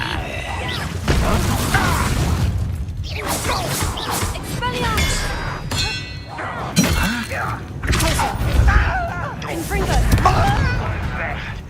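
Bombarda blasting spell explosions in Hogwarts Legacy, a series of loud shattering blasts and crashing debris over combat noise and whooshes, repeated throughout, with a voice speaking over parts of it.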